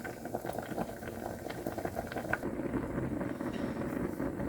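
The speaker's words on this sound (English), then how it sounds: "Just going to stir them in, make sure they're submerged, and then let that boil for 4 minutes until they're done" Noodles and vegetables boil in a pot of water with a continuous bubbling rumble, close and steady throughout.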